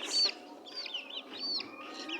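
Desi hens kept through the winter cluck and squawk in a few short, rising calls, close and moderately loud with no talk.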